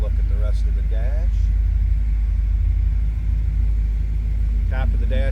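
A 1972 Oldsmobile Hurst/Olds Indy 500 Pace Car engine running with a steady, deep, loud rumble throughout, while someone talks briefly over it.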